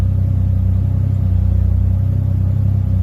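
A Toyota 1JZ-GTE engine idles steadily in a garage after a build, running hot, giving a loud continuous low rumble with an even pulsing throb and no change in revs.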